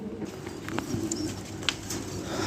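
A released female pigeon cooing outdoors, a few soft low coos over a quiet background, with scattered brief chirps and a faint flutter mixed in.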